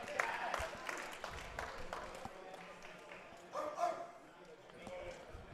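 At an APA Open Nationals powerlifting competition, a lifter imitates a dog with a couple of short barks, heard amid crowd noise, applause and commentators talking.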